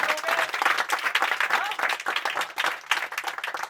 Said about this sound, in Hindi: ताली बजाओ पहले